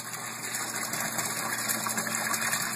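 An aquaponics pump pushes water from a sump into a leveled fish tank, a steady broadband rush of flowing water with a faint mechanical hum underneath, constant and close throughout.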